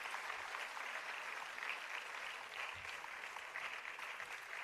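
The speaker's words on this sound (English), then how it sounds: "Can we have another loud round of applause for Medha for having such an amazing perform" Steady, dense applause from an audience after a Bharatanatyam dance performance at an arangetram, continuous and even throughout with no talk over it.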